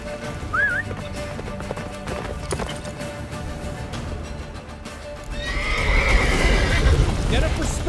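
Geralt's horse Roach in The Witcher 3 whinnies once early, then gallops with steady clip-clop hoofbeats that grow louder and denser toward the end, under a wash of wind and game ambience with talk in the background.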